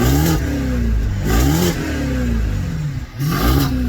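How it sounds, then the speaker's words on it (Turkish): A BMW 745i V8 engine revs hard in repeated bursts, its deep exhaust rumble rising and falling close by, with a brief dip before a final rev. "Bir de egzozun oradan bir sesi duyalım abi"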